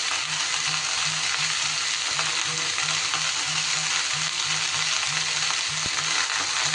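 Chopped banana stem goes into a pan of mixed vegetables for a festive offering dish and fries with a loud, continuous sizzle, with regular scraping strokes of stirring throughout and no voices.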